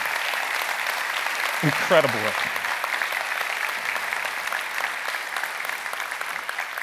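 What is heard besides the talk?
audience applause at an award ceremony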